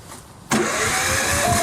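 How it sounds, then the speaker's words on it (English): An Airstream RV's onboard generator is started by remote and settles into a steady mid-pitched running drone, with a quiet lull before the engine catches abruptly and runs on without any talk. "From there we can start the generator by pressing the button here on the remote start."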